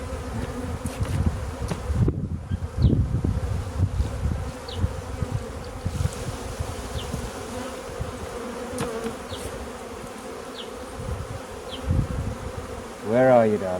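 Bees swarming around a hive, a dense continuous buzz close to the listener with occasional individual insects flying past, faint background noise and no speech.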